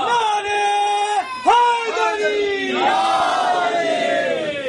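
A crowd at a religious gathering chants slogans in unison, with loud, sustained voices that rise and fall across several drawn-out cries.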